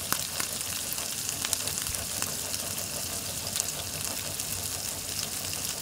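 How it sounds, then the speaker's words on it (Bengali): Prawns shallow-frying in a pan give off a steady, close sizzle of hot oil with faint crackles and pops, continuous throughout and with no voices. "ভালোভাবে দু পিঠ ভেজে নিতে হবে।"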